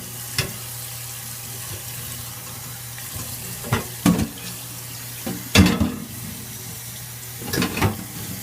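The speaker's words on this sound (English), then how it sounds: "Just going to use a little bit of hot water." Hot water runs from a tap while a cast iron pan is rinsed, a steady hiss of flowing water broken by several sharp clatters and knocks of the pan being handled in the sink.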